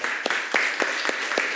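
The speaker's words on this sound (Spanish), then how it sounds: "Un aplauso al Señor." A church congregation claps during a Spanish-language sermon, with about six distinct louder claps falling at a regular, rhythmic pace over a background of scattered clapping.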